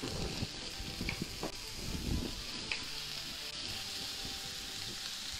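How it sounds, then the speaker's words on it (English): Chili sizzles in a hot pan with garlic prawns over high heat, a steady crackling fry with scattered sharp pops and soft stirring scrapes, close and fairly quiet. "Now I'm going to add in the chili and put on high heat."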